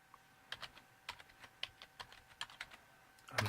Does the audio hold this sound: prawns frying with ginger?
no